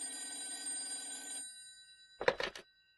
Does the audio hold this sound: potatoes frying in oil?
no